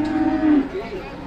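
A Simental beef cow gives a loud, close moo with a steady tone that fades out, heard alone.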